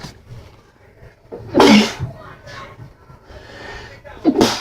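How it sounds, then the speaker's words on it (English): A sharp, loud sneeze bursts out amid quiet talk, followed shortly by a smaller second sneeze near the end. "Goddamn sneezing."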